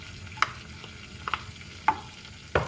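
Garlic in butter in a saucepan over low heat, with a few sharp scraping stir clicks at irregular intervals over a soft, quiet sizzle.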